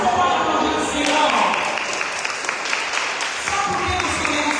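Church congregation applauding during a sermon, a sustained wash of clapping lasting several seconds, fairly loud, with a voice and music faintly beneath.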